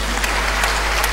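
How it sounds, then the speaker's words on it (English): Applause from a church audience at a Lenten talk, steady dense clapping filling the whole short moment at even loudness. "A round of applause for him."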